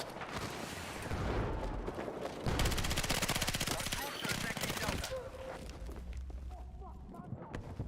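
Rapid P90 gunfire from Battlefield 6 crackles in loud bursts over dense game noise, with a steady stutter of shots mid-clip and a voice talking throughout.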